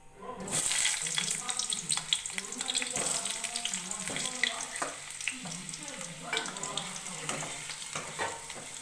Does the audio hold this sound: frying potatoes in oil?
yes